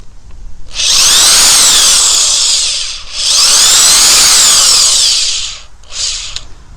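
A power drill with a universal socket removes a stripped bolt, whining loudly in two long sustained runs and a brief third burst, with short pauses between them and no talking.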